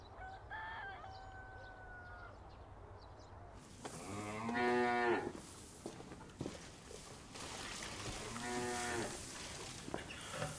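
Cows low in two long, loud moos from nearby, separated by a pause, while a rooster crows faintly in the background at the start.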